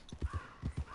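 Horse hooves clip-clop in a video game, a quick uneven run of soft thuds at moderate distance with no talk over them.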